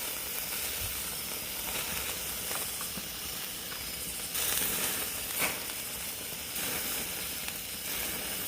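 Steaks sizzle on a hot Kenmore propane grill, a faint steady hiss and crackle with no talking.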